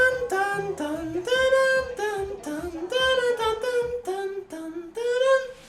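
A school bell ringtone plays an instrumental, synth-heavy version of a song, a clear tonal melody that runs continuously in distinct phrases throughout, loud and close, with no talking over it.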